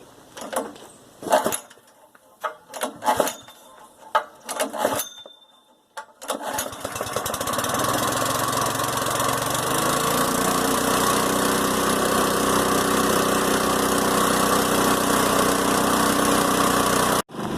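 The petrol engine of an off-grid shop air compressor, run at half choke, takes several loud, uneven pull attempts with pauses between. It then catches and settles into a constant close-up mechanical drone that holds to the end.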